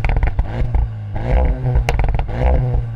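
A Volkswagen Golf Clubsport with an Akrapovic exhaust revs in short, loud, close bursts with crackling, uneven throttle blips over about three seconds.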